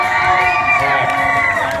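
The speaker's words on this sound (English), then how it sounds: "And the crowd goes wild." Crowd at a comedy hypnosis show at the Fresno Fair cheering, whooping and shouting together in a brief, loud burst.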